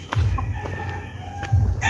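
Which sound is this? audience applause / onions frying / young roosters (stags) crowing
young roosters (stags) crowing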